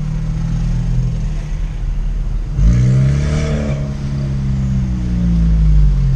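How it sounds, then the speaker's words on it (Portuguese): A remapped Chevrolet Tracker Premier 1.4 turbo with stage 2 tune and downpipe accelerates, its engine rising in pitch with a whining turbo whistle over a steady cabin drone; no talking. "ele tá piando a turbina de uma tal forma que eu me sinto num Jetta 211 cavalos ou até numa Porsche 911"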